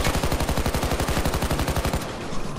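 Rapid automatic gunfire in the co-op heist video game Payday 2, a loud sustained burst of evenly spaced shots lasting about two seconds before cutting off into a brief rumbling tail.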